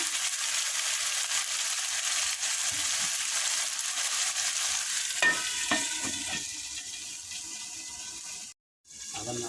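Meat being stirred as it fries in oil in a pot for homemade rice biryani, a steady close sizzle with scraping spoon strokes throughout and a brief break near the end.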